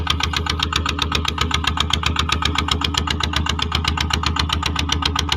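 A Yanmar TF120 DI single-cylinder diesel on a walking tractor runs close and loud at a steady idle, a continuous rapid even knocking chug with no talk over it.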